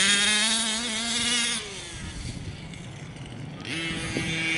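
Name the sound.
Losi Five B RC car OBR 32cc engine running rich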